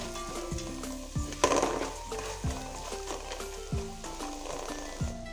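Egg biriyani masala with green peas fries in oil in a pan, a soft sizzle broken by a few spoon clinks and scrapes as it is stirred, with a low steady hum underneath.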